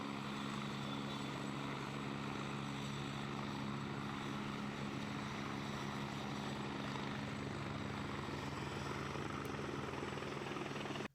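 A helicopter flies at Kedarnath in the Himalayas, its engine and rotor drone a steady loud whirring hum with a fast throbbing pulse holding throughout, no voices.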